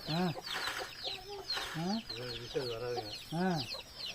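Chickens clucking nearby with repeated short calls, while a voice speaks briefly among them.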